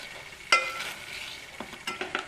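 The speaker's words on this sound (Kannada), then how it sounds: "ಈಗ ಸ್ವಲ್ಪ ಹೀಗೆ ಮಸಿಯೋಣ." A utensil mashes soft cooked tomatoes in a hot pan for rice bath, with a sharp scrape at the start, then gentle stirring and a few soft squelches over a faint sizzle.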